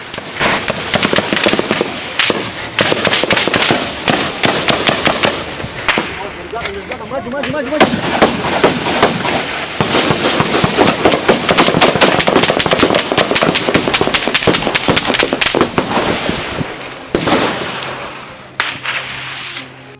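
Dense, sustained gunfire crackles through a forest military operation by Indonesian special forces against an armed group, with rapid automatic bursts and sharp single shots close and loud for the whole stretch, and men calling out briefly beneath it.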